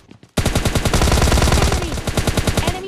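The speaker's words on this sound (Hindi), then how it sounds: "देख रहे हो कोई बंदा वेक्टर चला रहा है" A Vector submachine gun fires in PUBG Lite in one long, rapid, loud burst that begins abruptly after a brief quiet moment, its shots evenly spaced and close, tapering slightly toward the end.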